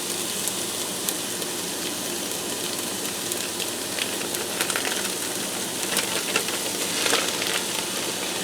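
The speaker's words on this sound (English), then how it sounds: "Now I'm going to fry this for a few minutes till the vegetables are tender and the sausage is brown." Ground sausage with vegetables frying in a Ninja Foodi, a steady, even sizzle and hiss throughout with faint crackles, no talking.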